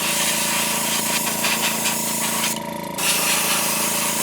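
Aerosol rattle can of cheap Walmart white spray paint coating a blank model propeller, a steady close hiss with a brief pause before spraying resumes.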